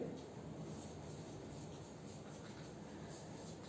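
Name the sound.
writing out the solution during a lecture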